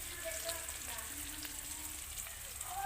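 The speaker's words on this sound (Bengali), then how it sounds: "আলু ভাজা হচ্ছে।" New potatoes fry in hot oil for a home-cooked biryani, a steady soft sizzle running continuously at low volume with faint background murmur of household activity.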